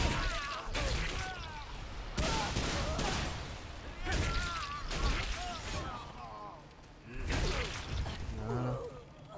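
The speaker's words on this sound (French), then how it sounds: "Personne qui me tire dessus en haut." Enemy gunfire in Remnant 2, sharp repeated shots and whooshing bursts coming in irregular volleys, mixed with a player talking and game effects.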